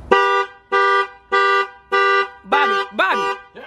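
A car alarm goes off in a loud repeating horn pattern of evenly spaced blasts, then shifts into rising and falling warbling tones, close by, with voices faintly around it.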